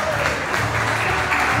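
An audience at a family gathering claps to greet a grandmother, a thick, even burst of applause that fills the whole short moment.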